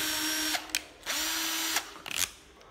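A Japanese cordless drill runs in reverse in short bursts, its whining motor spinning up and stopping several times with brief pauses between runs, close and clear with no talking.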